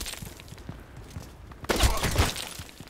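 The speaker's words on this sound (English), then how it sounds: "Throwing a grenade on myself." Grenade going off in the Contract Wars video game, a sudden nearby burst with a short crackling debris tail after a quieter stretch of faint movement sounds.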